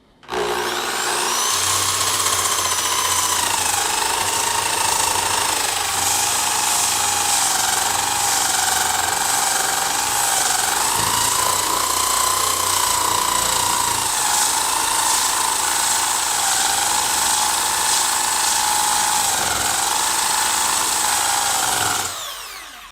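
Electric sander working on wood coated with enamel and acrylic paint, a continuous high whining hum that runs steadily for about twenty seconds, close and loud, with slight shifts in pitch as pressure changes and no talking.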